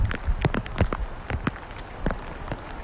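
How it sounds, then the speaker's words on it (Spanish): Night rain falling in San Rafael cemetery in Monturque, a steady broadband patter with scattered sharper drops striking surfaces close by, no voices. "También lo hace la lluvia, que le da a este espacio otra perspectiva, otro olor, otro sonido."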